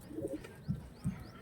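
Pigeons coo softly at close range in two low, rounded calls spaced about a third of a second apart, with faint bird chirps and murmuring behind them.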